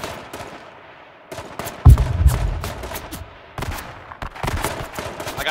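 Rapid video-game gunfire crackles in loud, dense volleys and overlapping bursts, with a heavy impact early on and sustained shooting through the rest, no speech.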